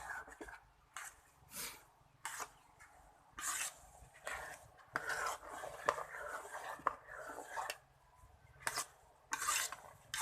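A rice mixture for khao tom is stirred in a pan until dry, making repeated rasping scrapes of a utensil against the pan in an uneven rhythm, close and fairly quiet.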